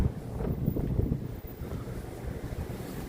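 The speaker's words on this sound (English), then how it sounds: "Why is Bay Street always so windy?" Gusty wind buffets the microphone on Bay Street in Toronto on a winter night, a loud, low rumbling roar that swells and eases over a few seconds with no voices.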